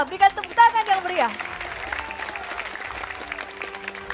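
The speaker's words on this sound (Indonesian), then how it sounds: "Berikan tepuk tangan yang meriah." Applause rises from the audience at a public debate of regent and vice-regent candidates for North Halmahera Regency, North Maluku. A voice is heard briefly at the start, then a steady spread of clapping carries on for several seconds.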